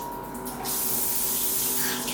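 A hot-water shower in a Bali Airbnb villa bathroom sprays with a loud, steady hiss that starts abruptly and runs on close by, with no talk over it.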